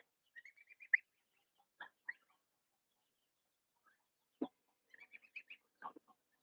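Cornish chickens and chicks in a barn, scattered soft clucks and high chick peeps in short bursts separated by quiet gaps, fairly faint, no talking.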